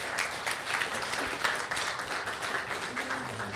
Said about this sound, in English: No, seriously, clap it up for this young man.